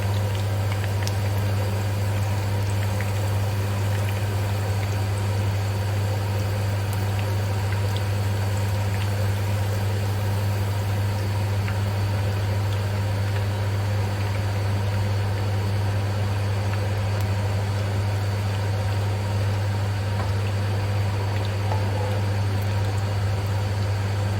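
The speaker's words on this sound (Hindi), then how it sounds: "ओह, कितना शोर होता है एग्जॉस्ट का।" A noisy kitchen exhaust fan runs the whole time, giving a steady, loud, unchanging drone with a strong low hum and a broad airy hiss, and nothing else breaks through.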